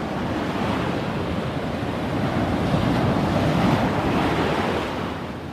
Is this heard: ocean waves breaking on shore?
yes